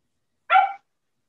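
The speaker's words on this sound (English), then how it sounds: "I think your dog just answered it." A dog gives one short, sharp bark, close by and alone in otherwise quiet surroundings.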